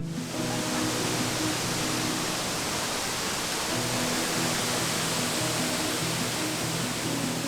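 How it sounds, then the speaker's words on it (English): A large waterfall roars in a dense, constant broadband rush of falling water, loud and unbroken for the whole stretch with no voices. "This is way bigger than the last waterfall."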